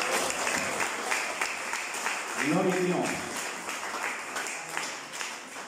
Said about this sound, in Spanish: le dan palmas al que vive